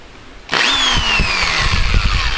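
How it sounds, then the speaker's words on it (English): A power drill abruptly spins up and whines steadily at high pitch, loud and close, with a faint descending tone as it runs, while reconing a subwoofer. "Using a drill."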